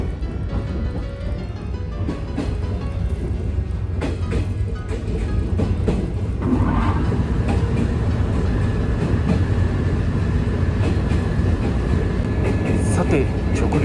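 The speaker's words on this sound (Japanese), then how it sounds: "列車はトンネルへと入っていきます" Heard from inside the cabin, a Fukuhoku Yutaka line train bound for Shimonoseki rolls toward the Kanmon Tunnel with a loud, steady rumble, broken by scattered rail clacks and brief higher squeals.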